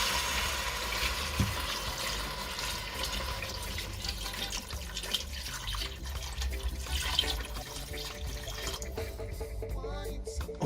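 About 900 ml of water is poured into a pot of curry goat, making a faint, steady trickling wash over low kitchen background noise.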